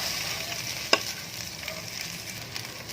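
Rice mixed with tomato sauce goes into a frying pan with sautéed garlic and onion, a soft steady sizzle with one sharp clack of a utensil early on and light stirring scrapes, with no talking.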